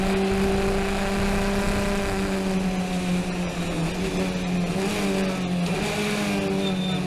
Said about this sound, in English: Accelerate, shift up into 2nd.